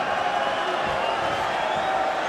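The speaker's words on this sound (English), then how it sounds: "This great Irish crowd in attendance tonight at the Garden" Big Irish crowd cheering inside the Garden during a UFC fight, a dense, steady roar of distant voices filling the arena with no pauses.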